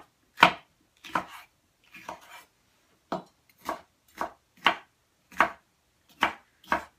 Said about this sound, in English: So we're gonna just chop up some pepper.